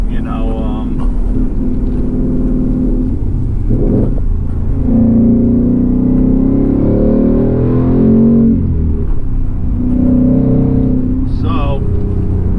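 A 2020 Ford Mustang S550 accelerates on a drive, its engine note rising and falling through several pulls, loud and close from inside the car.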